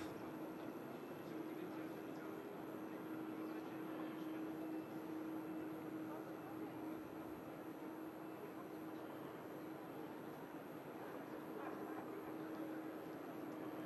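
A TUI aircraft at Manchester Airport gives a steady, loud engine roar with a low droning hum that holds evenly throughout, with no clear rise or fade.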